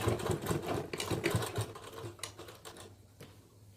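A sewing machine runs in quick, uneven bursts while stitching piping onto a blouse, its rapid mechanical chatter close and fairly steady, then easing off toward the end.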